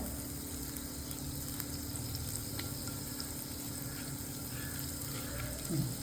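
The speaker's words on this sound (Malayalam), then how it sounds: "1 ടേബിൾ സ്പൂൺ ബട്ടർ ഇട്ടിട്ടുണ്ട്. അതൊന്ന് മെൽറ്റാവട്ടെ." Butter sizzling as it melts in a pan for toasting a stuffed cheesy bun, a continuous close hiss with a steady low hum underneath, no voices.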